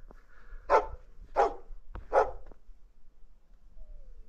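A pet dog gives three sharp, close barks in quick succession outdoors, followed by quiet with low wind rumble and no talking.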